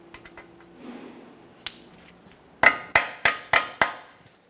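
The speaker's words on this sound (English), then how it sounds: "We'll just peen that over so there's no way this nut can loosen up on us while we're driving down the road." Five sharp metallic hammer strikes ring out in quick succession, peening a cotter pin over a ball joint nut on a 2015-2019 Subaru Outback control arm, preceded by faint small clicks and handling noises.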